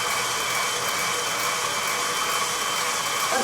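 An electric mixer creams cookie dough for date pinwheel cookies, giving a continuous steady motor whir at a constant pitch with no talking.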